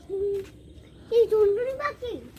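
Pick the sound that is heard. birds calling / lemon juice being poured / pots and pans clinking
birds calling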